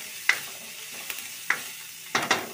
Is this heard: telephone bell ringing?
no